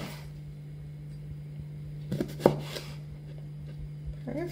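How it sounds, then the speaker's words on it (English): A sharp chef's knife cuts a lemon into small wedges on a board, a few soft close chops and taps over a steady low electrical hum. "get your sharp chef's knife and simply cut your lemon into small wedges"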